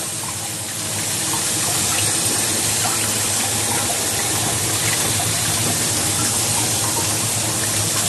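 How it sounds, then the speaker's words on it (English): Tap water gushes steadily into a sink in a small Japanese kitchen while beef is washed off hands, a loud continuous rush close by with no talk. "I'm just taking my time to wash all this beef off my hands."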